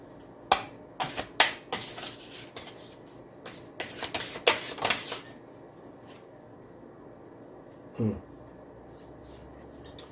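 Tarot cards being shuffled and drawn, bursts of riffling and slapping card sounds in the first half, then a quiet pause and a single soft card placement, close by.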